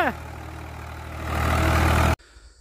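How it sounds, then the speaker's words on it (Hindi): A Swaraj 735 FE three-cylinder 39 HP tractor engine runs loud and close, its low rumble building as it revs, then cutting off abruptly. "आज की वीडियो बनाने लग रहे स्वराज 735 FE भाई, 3 सिलेंडर ट्रैक्टर है 39 HP का।"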